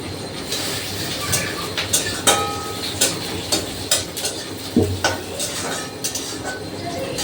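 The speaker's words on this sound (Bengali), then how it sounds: "মেয়ের মাংসর মশলাটা এখানে কষাচ্ছি" Spiced meat masala is stirred and sautéed in a pan in a village kitchen, with repeated metallic scrapes and clinks of a spatula against the pot over a steady sizzle.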